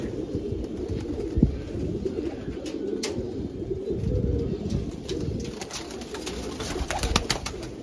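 Pet pigeons in a Rohtak loft coo repeatedly, soft low throaty calls overlapping close by, with faint chirps and flutters among them and no talk.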